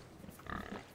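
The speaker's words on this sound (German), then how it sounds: "Dann sind hier Schweine drin." Pigs in a Planet Zoo habitat give a brief, soft grunting snuffle, a quick cluster of low grunts in the middle of a quiet, ambient moment with no speech.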